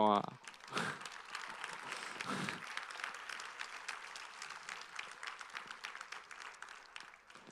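An audience applauds after a talk at a congress, sustained dense clapping throughout, with a brief voice at the start.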